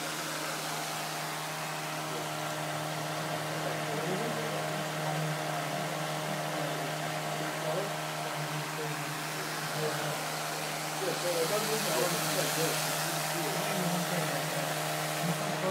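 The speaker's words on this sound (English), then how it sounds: "The fan is now blowing at a different direction from the heatsink" A small cooling fan blows air onto a heatsink on a lab test rig, giving a steady, close, faint whir with a constant low hum and broadband airy hiss that brightens slightly toward the end.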